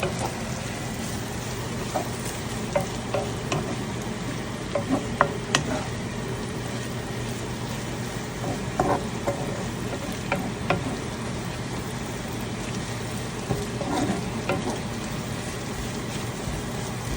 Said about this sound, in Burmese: အစီနည်းနည်းလေးနဲ့စိတ်ရှိရှိနဲ့ကြော်တာဖြစ်ပါတယ်